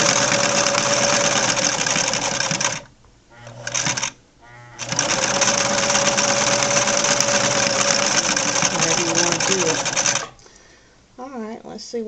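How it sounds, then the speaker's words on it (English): A Singer Fashion Mate 360 sewing machine runs a straight stitch in loud, fast, steady whirring bursts, stopping twice briefly before a long continuous run, with someone speaking in the pauses. "And so then you're back to doing your regular sewing."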